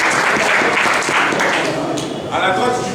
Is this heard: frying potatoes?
no